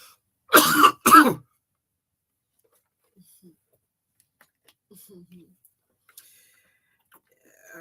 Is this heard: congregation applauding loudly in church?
no